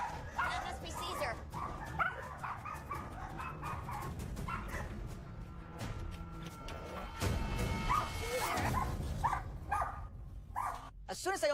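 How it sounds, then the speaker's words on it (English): Several poodles bark, yip and whimper excitedly at a door, a busy, overlapping chorus of sharp barks and whines close by, with people talking throughout. "As soon as I open the door, the poodles can run in and barking."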